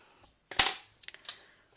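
Sharp tapping knocks a tile loose during tiling work: one loud crack followed by several lighter, quick taps, close by and with no talk.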